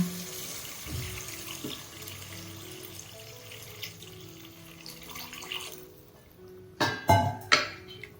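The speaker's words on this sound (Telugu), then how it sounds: "ఇప్పుడు వాటర్ వేస్తున్నా." Water is poured into a pan of chicken and brinjal curry, with a steady running, splashing wash that ends in a few louder clattering knocks near the finish.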